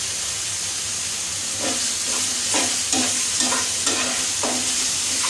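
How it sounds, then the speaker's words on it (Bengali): Tomato fries in ghee for fried rice, giving a constant sizzle. Partway through, a rhythmic series of spatula scrapes and stirring strokes starts and repeats about twice a second, loud and close with no talk. "এটা বেশ কড়া আছে কিন্তু আমি ভেজে নিচ্ছি।"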